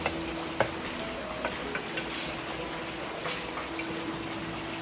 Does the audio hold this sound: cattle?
no